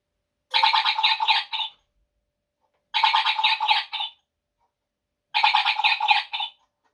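A modern wall clock chimes a bird-song melody three times, each a bright burst of warbling chirps lasting about a second, separated by silence, clear and close.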